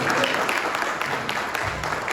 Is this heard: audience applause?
yes